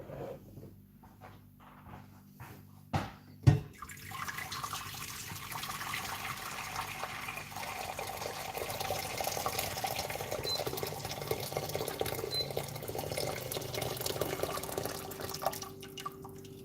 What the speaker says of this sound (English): So I'm going to pour the hot water in here.